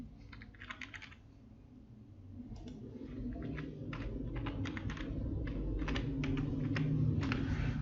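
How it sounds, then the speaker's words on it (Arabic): A router username and password are typed on a computer keyboard, a close run of quick key clicks in irregular bursts over a low steady background hum, with no one speaking. "هتكتب اليوزر نيم والباسورد اللي في ظهر الراوتر"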